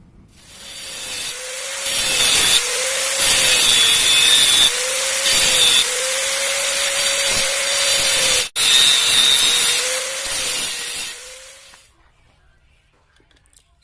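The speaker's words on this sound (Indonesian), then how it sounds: "kita akan melakukan pembongkaran dengan menggerinda." An angle grinder cuts apart a metal manifold in a steady series of loud, close rasping passes, each briefly pausing before the cut stops and the clip ends in near quiet.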